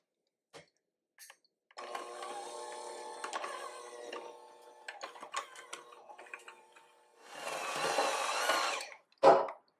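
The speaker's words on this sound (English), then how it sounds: "with a little hand whisk, mix this up until everything's nice and creamy and spreadable" Small hand whisk mixing icing sugar filling in a bowl, with bursts of scraping, rattling strokes close by, stopping and starting, then a longer dense swishing stretch and a final clink.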